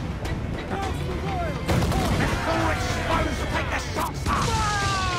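Cannon volleys fired from a ship in a naval video game boom in bursts over a dense, continuous bed of battle noise and splashing, with someone talking throughout.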